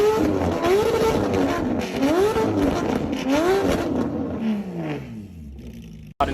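A Porsche 981 GT4 fitted with custom headers and a pop tune revs loudly and repeatedly, its exhaust note sweeping up and down in surges close by, with the pitch falling away as it settles toward the end.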